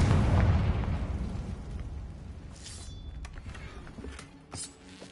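A Confringo fire spell explodes in Hogwarts Legacy with a loud, close burst at the start that fades into rumbling debris, while scattered crackles and pops follow.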